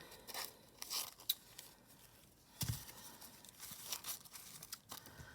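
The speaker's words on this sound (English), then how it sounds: "So I'm just going to cut out a few to get started." Paper squares being cut out for a Halloween pumpkin luminary craft, scattered close snips and crinkles with quiet gaps between them, no talking.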